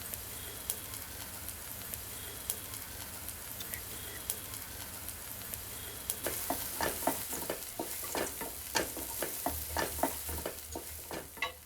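Rice semolina roasts in ghee in a pan under a soft, even sizzle, then quick rhythmic scraping stirs pick up partway through, fairly quiet and close, with no voices.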